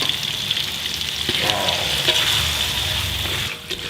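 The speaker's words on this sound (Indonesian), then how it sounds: "udah cukup kita tumis sampai harum banget" Blended spice paste, already oily from blending, sizzles in a pan as it is sautéed, a close, steady frying hiss with faint stirring scrapes and no talking.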